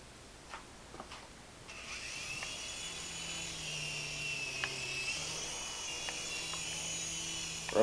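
A small RC helicopter flying, a few clicks, then its electric motor and rotor whir rising into a steady high whine, close and moderately loud.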